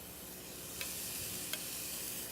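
Chopped onion frying in hot oil in a pan, a soft continuous sizzle and crackle with two brief utensil taps, fairly quiet and without talking.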